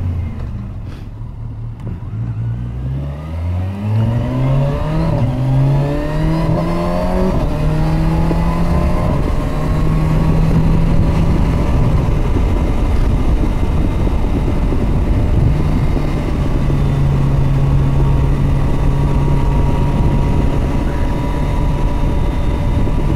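Kawasaki Versys 1000 S/SE motorcycle ridden on a track in its soft suspension setting, engine note climbing steadily through the gears as it accelerates, then holding a loud, continuous drone close to the microphone.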